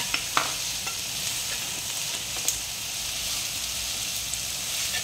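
Spring onion greens and capsicum stir-fry in a pan, giving a steady close hiss and sizzle with a few light utensil taps and clicks against the metal.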